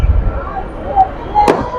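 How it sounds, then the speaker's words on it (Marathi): A firecracker bursts during New Year midnight celebrations, one sharp, loud crack standing out partway through against a steady low rumble of distant crowd and background noise. "फटाके एवढे फुटत आहेत"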